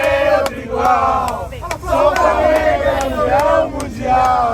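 Flamengo supporters gathered outside chant and cheer loudly in rising, rhythmic waves of massed voices, with sharp claps and shouts cutting through the crowd roar.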